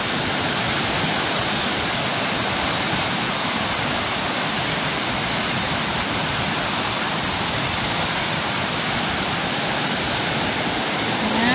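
Floodwater rushes past carrying coconuts, banana trunks, bamboo and branches, a loud dense continuous roar of moving water filling the whole stretch without letup.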